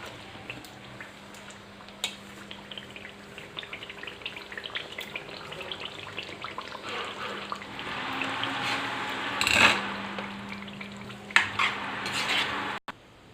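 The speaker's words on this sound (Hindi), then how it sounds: "अब इसमें मैं इस दाल को शामिल कर रही हूँ।" Mashed daal lentils going into frying masala in a pan, with faint sizzling, scraping and utensil clinks against the pan over steady low kitchen noise, building toward a louder stir near the end.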